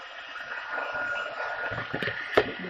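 A heat tool melts embossing powder during card making, giving a steady, close whoosh of blown air. A couple of faint clicks sound near the end.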